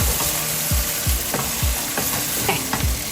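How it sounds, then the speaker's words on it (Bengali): Loud, steady sizzling of food frying in a pan, with rhythmic scraping strokes of a spatula stirring throughout. "তো জিনিসটা ভাজা হতে থাক"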